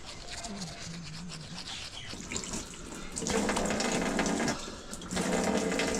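Toothbrush scrubbing teeth beside a bathroom sink with a running faucet, wet rhythmic brushing and splashing water heard close up, louder in bursts toward the end.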